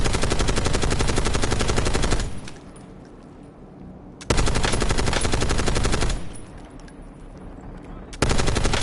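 Loud, dense automatic gunfire from a Call of Duty match on PS5 comes in two long sustained bursts, each ending abruptly, separated by quieter gaps of game ambience.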